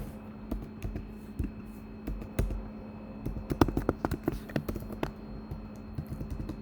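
Rapid tapping of a computer keyboard, keystrokes arriving in quick uneven runs with short gaps, near and moderately quiet over a faint steady hum, no speech.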